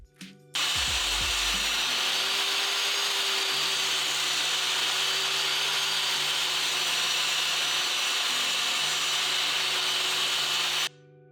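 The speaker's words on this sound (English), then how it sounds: "I'll cut my boards down to lengthen the miter saw, and then head over to the table saw to rip these down to width." A power saw cuts wooden boards for a whisky cabinet, likely a miter saw crosscutting to length and a table saw ripping to width. The blade runs loud and steady for about ten seconds, then stops abruptly.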